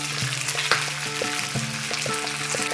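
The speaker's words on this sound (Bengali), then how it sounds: "একদম হালকা করে মাছটা ভেজে নিয়েছি।" Rohu fish frying gently in a pan, a steady dense sizzle with light crackles and pops, close and continuous.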